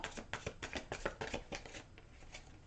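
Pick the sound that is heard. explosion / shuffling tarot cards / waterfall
shuffling tarot cards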